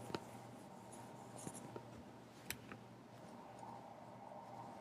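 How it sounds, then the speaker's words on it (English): Soft scratching of a pen or marker writing notes during a number line math lesson, faint and close over a low steady room hum, with a few light taps. "let's actually write that down so that we have it"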